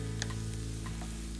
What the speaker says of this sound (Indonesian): Setelah bawang bombaynya layu, kita masukkan bawang putihnya.